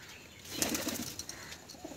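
Giribaz pigeons flap their wings in a loft, a soft burst of fluttering mid-clip over quiet background rustle, with no voices.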